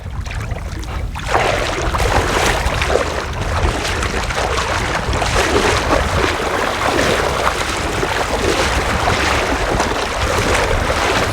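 Strong river current rushing over rocks, a steady broadband wash of flowing water heard up close and continuous from start to finish, with no voices.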